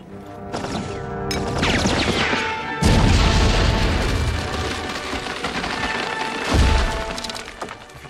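Trench warfare: heavy booming blasts and crashes amid crackling gunfire, loud and close, with one deep thudding explosion early and another swell later, debris rattling between.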